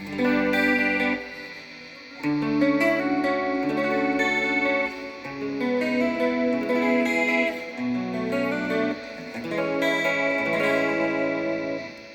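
Clean electric guitar with a shimmering chorus effect, strummed chords and arpeggiated notes ringing steadily, bright and close.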